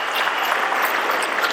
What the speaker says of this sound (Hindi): एक बार जोरदार ताली बजाओ यार